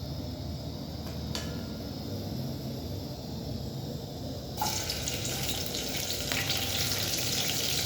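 Cooking oil heating in a pan on a lit gas stove gives a steady, moderate hiss that abruptly grows louder and brighter partway through, with no voices.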